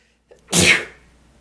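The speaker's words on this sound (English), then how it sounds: "I just sneezed" A single loud, close sneeze bursts out after a brief intake of breath, then fades into silence.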